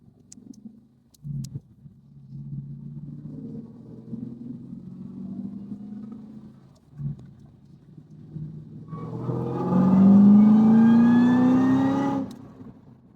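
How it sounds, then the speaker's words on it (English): A 2010 Cadillac CTS-V with a six-speed manual pulls hard in third gear. A low, steady engine rumble suddenly swells into a loud, rising howl that climbs for a few seconds and then cuts off abruptly. "we're going to do a little pull, probably in third gear, just to see what it does here"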